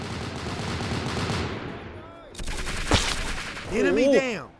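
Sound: gunfire in Roblox Vietnam War game

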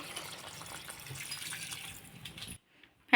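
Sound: water being poured into a pot

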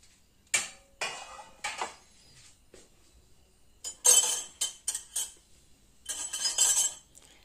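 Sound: pouring tomato pickle ingredients into a bowl

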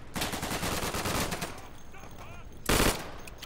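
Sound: automatic pistol gunfire in the video game Day of Infamy

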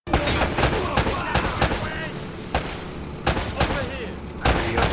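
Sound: gunfire shootout in video game Uncharted

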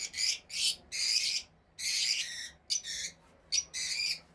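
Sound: Fischer's lovebirds calling in cage

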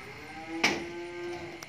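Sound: cow mooing while being loaded onto a truck

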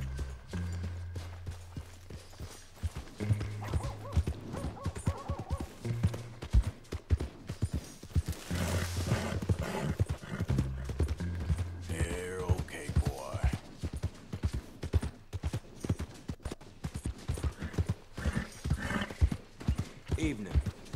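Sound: horses in the video game Red Dead Redemption 2

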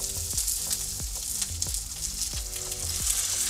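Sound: Coca-Cola poured into a pan of seared chicken, sizzling

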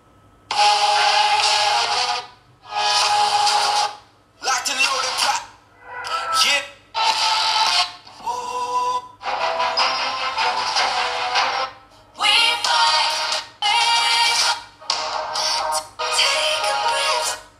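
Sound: TECNO POVA 5 phone ringtones

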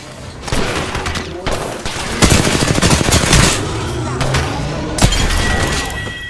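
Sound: gunfire in video game Apex Legends

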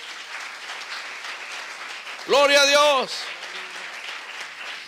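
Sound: congregation applauding in church

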